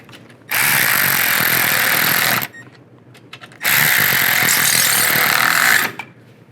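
A power tool drives the headlight bracket screws on a 2010-2016 Buick LaCrosse, two loud sustained buzzing bursts of about two seconds each, separated by a short pause, close up.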